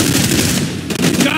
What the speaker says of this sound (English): Someone's taking shots!